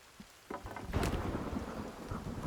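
Rain pours steadily with a loud thunder crack and rumble during a thunderstorm in the survival video game Sons of the Forest, the storm swelling suddenly and continuing as a dense, close wash of sound.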